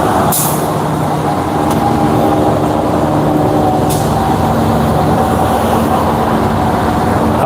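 A public bus idles close by with a steady engine rumble, and a couple of sharp hissing bursts of air brakes cut through near the start and again midway.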